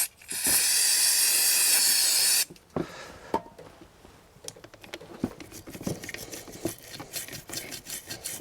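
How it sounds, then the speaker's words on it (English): Brake cleaner sprays in a loud continuous hiss for about two seconds onto a Honda CB125F front brake caliper, then gives way to scattered scrubbing and dabbing noises from a small brush working inside the caliper. "we're going to use some brake cleaner and a little brush to clean out the inside of the caliper"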